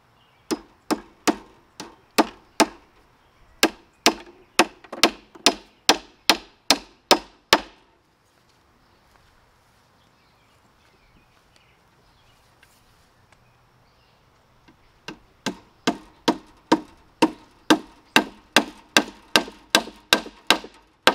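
A heavy hammer strikes wood in a steady, loud series of sharp blows while building air pruning beds, pausing for several seconds of near silence before another even run of strikes resumes.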